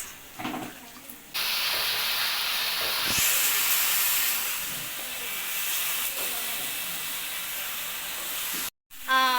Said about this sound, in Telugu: చూడండి మేరకాల పొటాటో ఫ్రై చేస్తుంది.